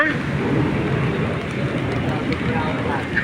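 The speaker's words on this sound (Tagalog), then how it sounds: "lumalakas na yung ulan" Dense, steady rain roars as a broad hiss, heavy and continuous, with a faint low rumble underneath.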